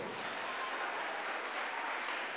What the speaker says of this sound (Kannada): ಹೆಣ್ಮಕ್ಳು ಚಪ್ಪಾಳೆ ತಟ್ಕೋಬಹುದು